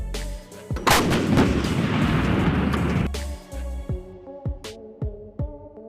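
A CAESAR 155mm self-propelled howitzer fires a powerful close-range blast with a long rumbling roar lasting about two seconds, followed by a series of sharp distant booms and cracks of further artillery shots.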